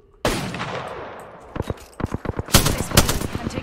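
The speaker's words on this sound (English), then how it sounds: "I'm taking shots." Gunfire in the Apex Legends video game: a loud opening shot, then bursts of rapid and scattered shots building toward the end, with no talking.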